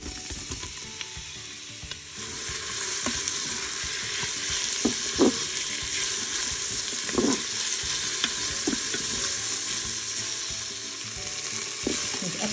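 Coarsely chopped onions frying in olive oil inside a Cookeo multicooker, a steady close sizzle running throughout with a few brief stirring clicks and scrapes, no talking.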